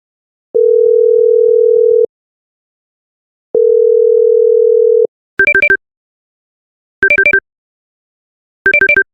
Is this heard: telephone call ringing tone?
yes